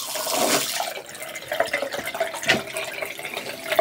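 Hot water running from a tap in an Irish farmhouse, a steady splashing flow with occasional brighter drips and gurgles, close and moderately loud with no talk.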